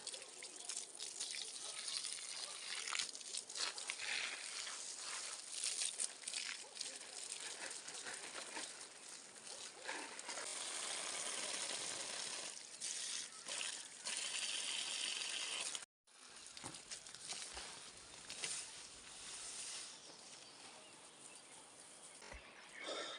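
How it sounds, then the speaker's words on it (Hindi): Water poured onto garden plants in a hillside village orchard, a steady splashing patter with trickles and drips running continuously, briefly cutting out partway through before resuming more softly. "मैं डाल रहा हूँ पानी"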